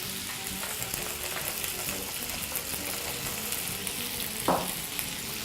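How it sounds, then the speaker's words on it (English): Pork spare ribs fry in a smoking-hot pan with a steady, dense sizzle throughout, with a brief sharper clatter near the end, probably from the pan being moved. "to your hot pan, just as soon as it starts to smoke, proceed to add your pork"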